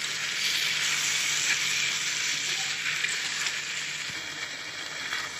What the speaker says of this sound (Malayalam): ഇനി നമുക്കിതിലേക്ക് ചെമ്മീൻ വൃത്തിയാക്കി വെച്ച് ഇട്ട് കൊടുക്കാം. നന്നായിട്ടൊന്ന് ഇളക്കി കൊടുക്കുക.